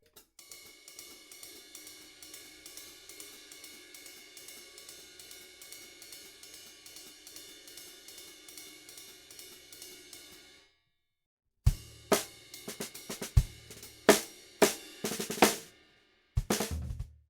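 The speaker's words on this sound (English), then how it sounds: "Another good one to try is using your hi-hat as part of that pattern." Jazz drum pattern on a kit with the hi-hat worked in: a long run of quick, even cymbal strokes, a brief gap, then a louder section of hits with heavy accents and open hi-hat chicks, close and alone without talking.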